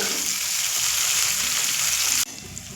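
Pre-fried potatoes sizzling with spices in a pan over a medium flame, a steady hissing fry that cuts to a quieter sizzle near the end, with no talking.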